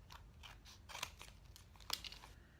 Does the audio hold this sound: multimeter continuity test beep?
no